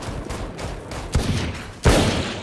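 Gunshots in a video game, a few loud close blasts with heavy reverberant tails, the sharpest cracks landing near the middle and toward the end over a rumbling background.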